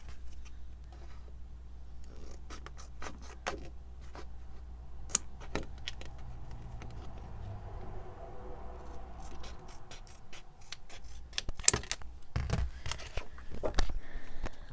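Scissors snip and scrape through a piece of reused packaging, cutting a second specimen card for a junk journal; sparse, close clicks and rustles with scattered louder snips and no talk.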